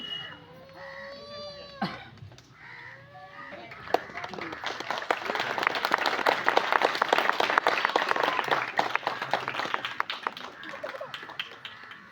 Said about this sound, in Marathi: टाळ्या जोरात वाजल्या पाहिजेत